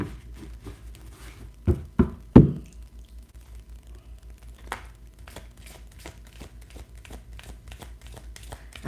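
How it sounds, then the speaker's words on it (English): Tarot cards being shuffled by hand produce soft riffling, flicking and tapping sounds, scattered and irregular, with a few sharper knocks from the deck, close and moderately quiet in an otherwise still room. "getting all my cards shuffled"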